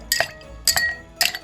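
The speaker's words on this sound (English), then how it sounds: "We're going to add some ice" Ice clinking into a cocktail glass while mixing a peppermint candy cane drink, three distinct clusters of bright clinks spaced about half a second apart, close and clear with no talking.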